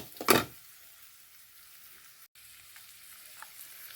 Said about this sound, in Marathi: आता ते आपण चांगलं परतून घेऊया